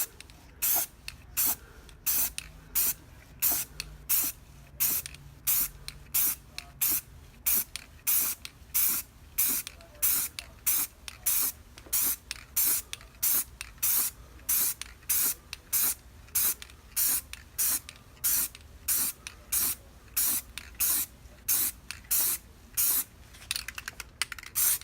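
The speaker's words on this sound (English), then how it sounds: "we're just going to start spraying away" Aerosol spray paint can spraying onto an airsoft gun in repeated short bursts, a steady rhythm of loud close hissing puffs with brief gaps, no talk.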